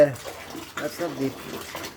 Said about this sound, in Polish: ciągle ciągle nam tutaj nalatuje świeża woda